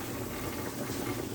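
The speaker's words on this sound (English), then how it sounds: "If you hear anything in there going in the background, I've got potatoes over here boiling for some mashed potatoes." Potatoes bubble in a pot of boiling water on the stove for mashed potatoes, a soft, steady simmering rumble in the background, faint and continuous.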